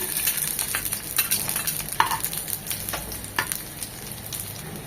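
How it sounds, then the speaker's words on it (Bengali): Chopped garlic and dried red chillies frying in hot oil, a bright crackling sizzle with spatula strokes scraping through it at a lively rhythm, no speech. "শুকনো মরিচটা 1 মিনিট হওয়ার পর দিয়ে দিব 1 টেবিল চামচ রসুন কুচি"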